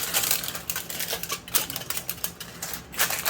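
Aluminum foil ripped by hand to line a Ninja Foodi pot for top sirloin steak, a quick series of close, sharp tearing crackles and crinkles with brief pauses.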